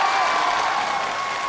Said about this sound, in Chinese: 所以要再次把掌声送给8位跨界歌手，